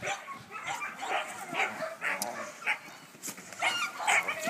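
A Giant Schnauzer guard dog in protection training barks in a steady run of short, rapid barks and yips, loud and close, with the bursts following one another without pause.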